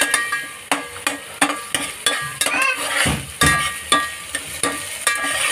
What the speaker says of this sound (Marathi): म्हणजे अद्रक आणि लसूणचा उग्र वास जरा मोडेपर्यंत थोडं त्याला परतून घ्यायचं आहे